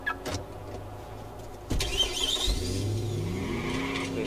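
A car engine starts and revs in the Watch Dogs video game: a cranking burst, then a rising engine drone with squealing tones, steady and fairly loud with no talk.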